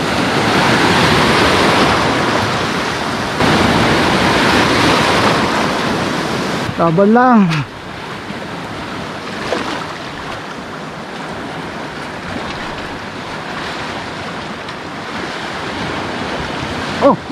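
Constant wind and rushing sea water roar at close range on a fishing boat in open sea, with a brief voice calling out partway through and engine-like noise underneath.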